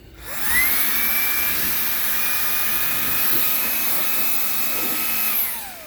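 A high-pitched Makita DAS 180 cordless electric dust blower whirs up, holds a steady whine for several seconds, then winds down, close and fairly loud.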